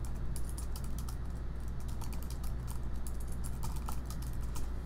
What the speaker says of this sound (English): So I can start typing in